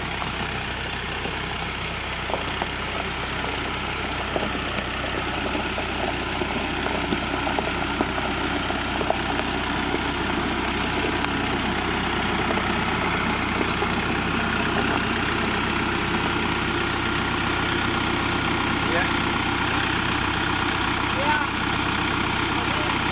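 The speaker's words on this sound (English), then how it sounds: "I got me a pet tractor, Morgan." A tractor used for logging idles steadily and loudly throughout, a constant low engine rumble with no change in pace, and a faint voice may sit under it.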